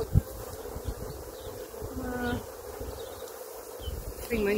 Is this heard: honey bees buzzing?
yes